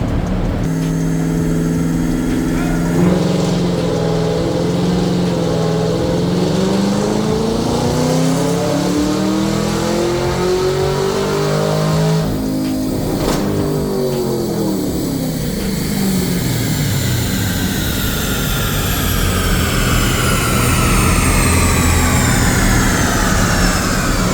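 A car engine on a dyno climbs through a long sixth-gear pull, a loud continuous roar rising steadily in pitch, easing briefly midway, then surging again with a whining drivetrain. Sustained and close.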